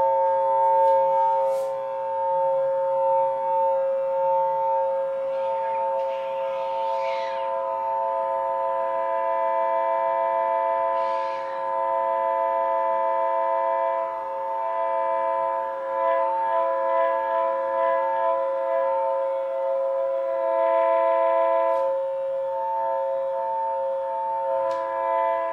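Buried pipe and cable tracing device emits a steady, loud multi-tone electronic drone that holds throughout, with small shifts in pitch and intensity as it is moved, plus faint scraping noises.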